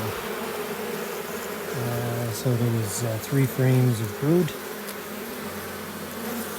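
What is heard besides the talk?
honey bees buzzing in a nuc hive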